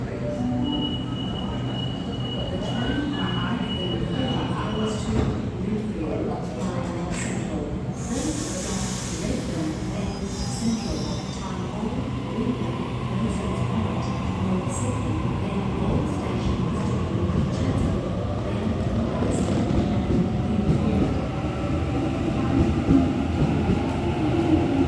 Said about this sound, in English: This train goes to Linfield.